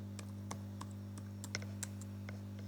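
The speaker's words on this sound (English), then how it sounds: "we are going to type this command here." Faint, sparse keystrokes on a computer keyboard as a Python version command is entered at a terminal, scattered single clicks over a steady low electrical hum.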